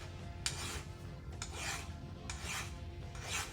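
Hand file rasping a chamfer onto a high-performance engine part, four distinct strokes at a steady, unhurried pace, close and fairly quiet with no voices.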